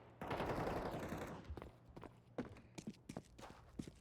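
AK Kalashnikov rifle fire in a Counter-Strike style shooter match: a dense burst of rapid shots up front, then scattered single cracks and footsteps, fairly loud and close, with no talk.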